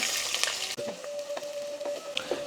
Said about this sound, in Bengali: এখানে হাফ কাপ তেল দিয়ে দিচ্ছি সয়াবিন তেল আর এখানে এক কাপ থেকে একটু বেশি পেঁয়াজ আছে পেঁয়াজ কুচি দিচ্ছি